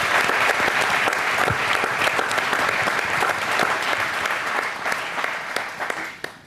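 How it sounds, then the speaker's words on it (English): An audience applauds at an ecommerce agency summit panel on sales pipelines: loud, dense clapping from a full room that holds steady and begins to thin out near the end. "So let's give her a round of applause."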